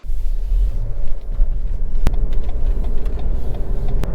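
A Lexus NX pulls away on the interstate and picks up speed toward 80 mph, a steady low engine and road rumble filling the cabin with one sharp click partway through, no voices.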